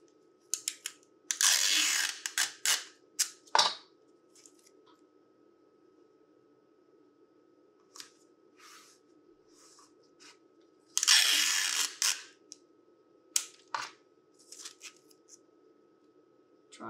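Ordinary clear sticky tape pulled and torn in short crackling bursts while laminating, two louder ripping stretches with scattered smaller crinkles and taps between, close by over a low steady hum.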